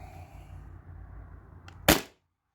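A single sharp pop from a modified Sabre 68 paintball marker running on a CO2 tank, close and abrupt, cutting off into silence after a quiet background hum.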